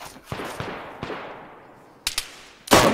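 Gunshots in the survival video game DayZ, a handful of sharp distant cracks spaced unevenly, each trailing a long echoing decay, ending with a louder, closer shot.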